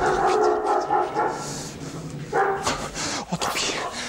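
A dog whimpers and gives a few short yelps close by, with some voices and rustling mixed in.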